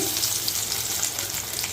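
Crushed garlic sizzles in hot ghee for a dal tempering, giving a short, steady, close frying hiss with no talk over it.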